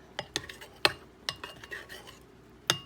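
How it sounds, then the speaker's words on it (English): A spoon clinks and scrapes against a pot or bowl while a thickening mixture is stirred, sharp separate knocks at an uneven pace, close and clear with no talk. "You just keep stirring it and see how it's getting thicker."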